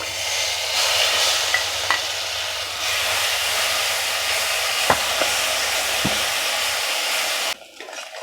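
Grated raw mango fries in oil for mango pulihora, a loud, steady sizzle close by with a few spoon taps, cutting off abruptly near the end.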